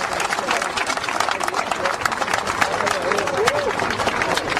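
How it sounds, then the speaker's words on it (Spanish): Dense crowd applause at the swearing-in of Carabayllo's new mayor, Rafael Álvarez Espinosa, continuous clapping from a large audience with voices mixed through it. "Fuerte los aplausos."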